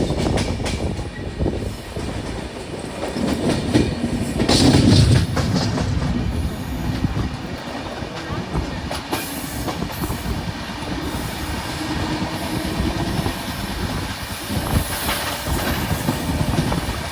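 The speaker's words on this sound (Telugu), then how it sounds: "ట్రైన్ వచ్చేసి కావలి నుంచి అయితే బయలుదేరిపోయింది" A Janshatabdi Express on the Chennai–Vijayawada run moves along after pulling out of Kavali station, giving a loud, steady rail rumble with wheel clatter and a faint squeal, close and unbroken throughout.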